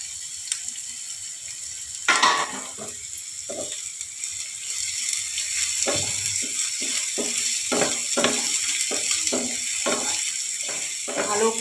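Chopped ginger, garlic, green chilli and tomato frying in a pan, with steady background sizzle and a string of sharp scraping, clattering stirring strokes throughout, a louder spatter near the start.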